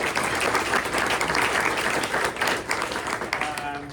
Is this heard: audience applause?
yes